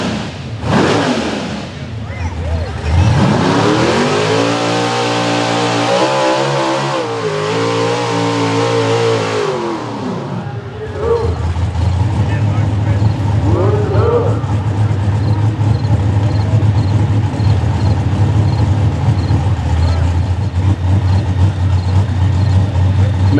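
Terry Roby's 'Code Blue' truck-pulling competition truck revs loudly and steadily at a rural pulling event, engine note rising and holding for several seconds before dropping back to a rumbling idle under crowd noise and announcer talk.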